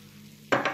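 Grated carrot salad tossed with olive oil in a bowl: a sudden close, wet stirring burst in the last third of the moment, with two quick scraping strokes and no talk.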